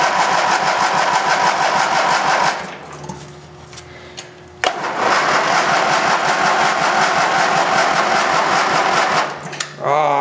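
An old Gilson engine runs loud and close with a steady chugging rumble, cuts out for about two seconds, then fires back up and runs strongly again before stalling near the end.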